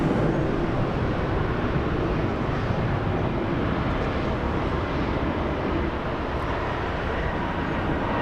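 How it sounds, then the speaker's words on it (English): A United Airlines Boeing 737-900 arriving at LAX from Honolulu gives a steady, broad roar of jet engine noise, moderately loud and unbroken, heard at a distance. "And we have United Airlines 1221 flying in from Honolulu"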